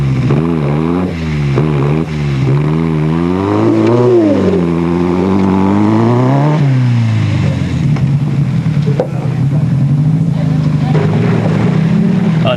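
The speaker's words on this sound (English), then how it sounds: "the Baileys tried to extricate their vehicle from the mud" Off-road rally vehicle engine at the Sugarbelt 400 in 2001, revving and wailing in rising and falling surges while stuck in mud, loud and close under wind noise, with a commentator talking over it.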